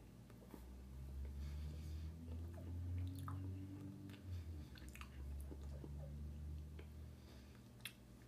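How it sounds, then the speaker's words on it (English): Close, quiet chewing of milk chocolate cookie dough bite candies, soft squishy mastication with faint clicks over a low steady background hum, no talking. "I'm eating candy on Christmas."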